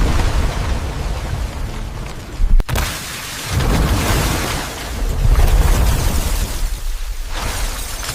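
Huge explosion in a factory, a sharp blast followed by rolling roar and rumbling debris, loud and close with no talk.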